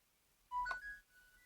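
Short electronic chime as P9 over-ear Bluetooth headphones power on, a brief two-note beep with a faint trailing tone in a quiet room.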